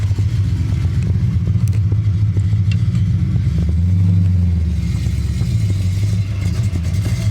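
Engine of an EFI-converted AMX heard from the cabin, droning steadily at low pitch with uneven surges and a swell midway as it struggles to settle its idle, with no talk.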